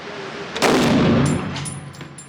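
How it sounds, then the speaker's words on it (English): Gunshot at an indoor shooting range, a single loud sharp report followed by a ringing decay, over a steady background hum. "I'm shooting this again"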